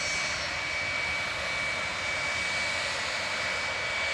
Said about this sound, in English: 30-year-old 757-200 with its beautiful RB211s